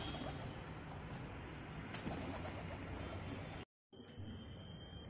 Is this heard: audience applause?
no